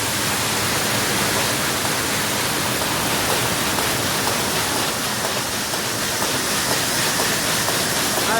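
A pistachio hulling machine strips the outer skins from the nuts with flowing water, giving a loud, steady, rushing wash of noise that holds evenly throughout.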